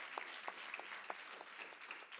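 An audience at a spring social justice symposium claps for a panel, a faint, sparse patter of scattered individual claps rather than a full roar, heard at a distance.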